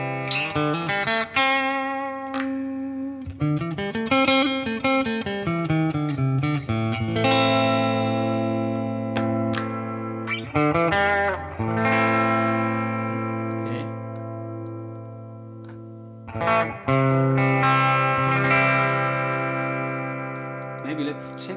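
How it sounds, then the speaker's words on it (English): Electric guitar played through a Valeton GP200 multi-effects unit on its Deluxe amp model, giving a sweet, mildly distorted crunch tone; sustained chords and melodic phrases ring out steadily with some reverb, close and fairly loud, with no talking. "Sweet distortion is what so many guitarists appreciate and love with the Deluxe."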